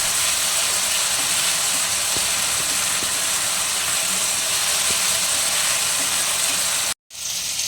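A spice paste with chili fries lightly in a pan, giving a steady, loud, even hiss that cuts out briefly near the end and then resumes.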